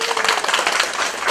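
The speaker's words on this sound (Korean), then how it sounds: "박수." Lecture hall audience of about a hundred listening to a Buddhist monk's talk breaks into steady, dense applause that fills the room at even loudness throughout, with no voices over it.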